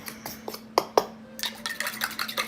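Egg being mixed into flour for biscuit dough in a bowl, with a few sharp utensil clinks against the bowl followed by softer scraping and stirring sounds, close and fairly quiet.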